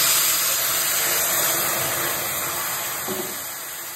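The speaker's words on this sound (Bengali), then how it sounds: "ফোড়নটা ভাজা হয়ে গেছে, এবার আমি তেঁতুলের পাল্পটা ছেঁকে দেবো।" A loud, steady hiss of strained tamarind pulp hitting hot oil tempering, with broad spluttering that gradually softens toward the end.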